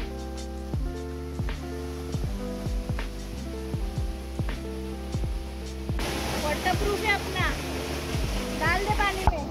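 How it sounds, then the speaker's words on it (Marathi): Waterfall in the Netravali Wildlife Sanctuary, Goa, with water dropping from a great height into a shallow pool, giving a steady rushing roar throughout with splashing patches, under a talking voice. "आणि तुम्ही बघू शकतात हा आहे वॉटरफॉल. खूपच वरून पाणी येतं आहे"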